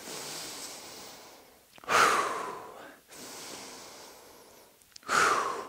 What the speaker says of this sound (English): 3 big breaths